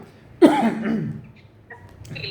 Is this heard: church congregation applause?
no